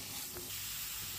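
Chinese pointed gourd frying in a pan over a gas flame, giving a steady close sizzle with faint stirring, brief and continuous.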